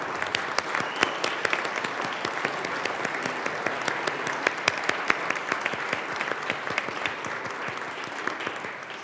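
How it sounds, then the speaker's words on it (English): Steady, dense applause from an audience in the Colorado House chamber, welcoming visiting students from Colorado Christian Academy in Littleton, with sharp individual claps standing out against the continuous patter and no talk. "Please give them a round of applause."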